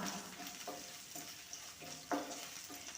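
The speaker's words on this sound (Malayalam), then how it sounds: "എട്ട് പത്ത് വെളുത്തുള്ളി ചെറിയൊരു കഷ്ണം ഇഞ്ചി ഇതെല്ലാം കൂടി ചെറുതായി ഒന്ന് മൂപ്പിച്ചെടുക്കണം" Black pepper, eight to ten garlic cloves and a small piece of ginger fry lightly in a pan, giving a faint, steady sizzle with a few soft stirring scrapes and clicks spread through the moment.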